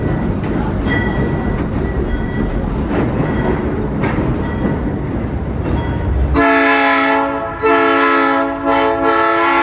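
A New York Cross Harbor Railroad locomotive rumbling and clattering along city street track for several seconds, then blasting a loud, sustained multi-tone air horn in three close sounds near the end.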